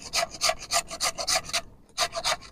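Peeled potato rubbed by hand against a grater in quick rhythmic rasping strokes, about a dozen close scrapes with a short pause before a few more, in a village kitchen; no talking.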